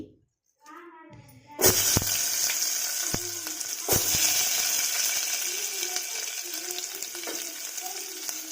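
Onion and curry leaves fry in hot oil, starting with a loud burst of sizzling as they hit the pan, then a steady close crackle with occasional stirring clinks throughout.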